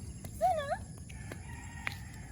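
A chicken gives a short wavering squawk against a faint outdoor hum, followed by quiet background noise and a small distant knock.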